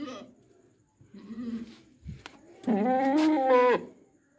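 A goat on a farm bleats, one long wavering cry near the microphone after some softer animal sounds and rustling, with no talk.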